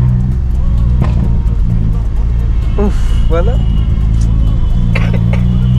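A loud Honda Accord driving, its engine droning low and constant inside the cabin with shifts in rumble, while people talk and exclaim over it.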